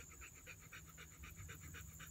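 A dog that loves the mud pants steadily and close by, quick rhythmic breaths repeating about four or five times a second over a faint background hum.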